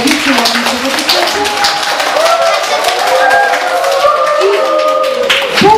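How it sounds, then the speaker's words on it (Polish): Audience applause at a children's spring poetry recitation contest in Syców, steady clapping throughout with children's voices and chatter mixed over it. "proszę ogromne brawa"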